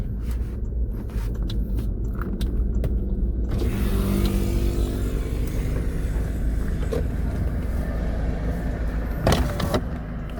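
A motorized tricycle passes on a busy Philippine street near a terminal, its engine a steady close rumble mixed with traffic, rising in a brief louder burst near the end; no one speaks.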